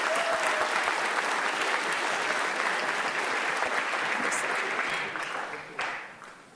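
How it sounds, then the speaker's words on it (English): Applause from a high school gathering for the girls' team players and coaches, a steady, full round of clapping that holds strong for about five seconds, then tapers off and dies away. "let's give them a round of applause"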